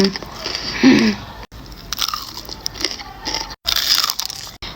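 Crispy fried chicken tenders from a fast-food order being bitten and chewed close to the mic, several sharp crunches in short bursts with brief pauses between them.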